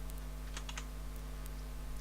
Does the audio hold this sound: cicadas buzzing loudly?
no